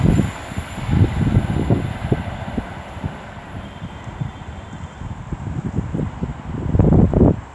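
A passenger train bound from London Euston to Liverpool Lime Street passes on the West Coast Main Line at Rugeley Trent Valley, a steady rumble of wheels with rhythmic clatter over rail joints and heavy wind buffeting the microphone.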